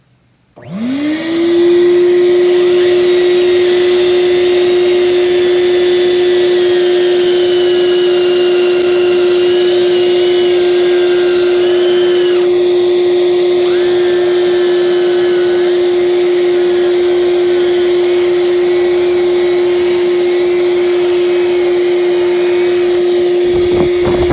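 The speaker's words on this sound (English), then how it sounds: "we're simply going to turn on the drill brush. We have a vacuum hose attached here" A drill brush with a vacuum hose attached scrubs a dusty old seat, producing a loud, steady motorized whine with a constant pitched hum that runs unbroken for the whole stretch before cutting off at the end.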